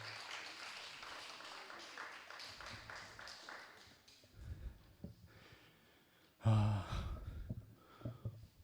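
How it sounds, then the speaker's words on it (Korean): Modest clapping from a congregation at a Sunday church gathering, fairly quiet and thinning out after a few seconds, followed by scattered shuffling, breaths and a sudden louder bump. "이종중 형님께 박수 부탁드리겠습니다"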